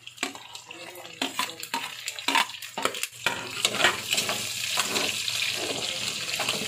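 Garlic and white onion stirred in a frying pan for pork adobo, with a steady close sizzle under a run of sharp scraping strokes that settle into continuous frying.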